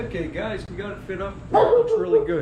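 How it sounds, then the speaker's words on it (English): A dog barks and yips briefly in the background while someone talks over it about a duct-taped car tail light job. The dog sounds loudest in the second half. "That's my dog."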